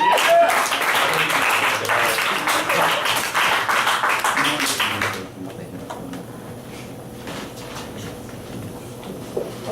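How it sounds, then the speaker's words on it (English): Comedy club crowd giving comedian Adam Stringer a burst of clapping and cheering, loud and dense for about five seconds before dropping off to a quieter room. "Please give a warm round of applause for the very funny Adam Stringer."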